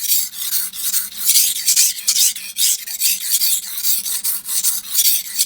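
A stainless steel knife is drawn across a King whetstone in quick, rhythmic rasping strokes, roughly a dozen back-and-forth passes, close and clear with no talking.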